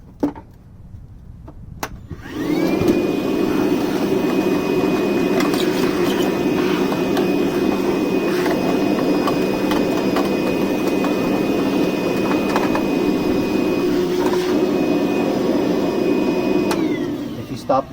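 A cordless vacuum on a 6 amp-hour battery switches on and runs with a steady, loud whine and airy roar, then cuts off near the end.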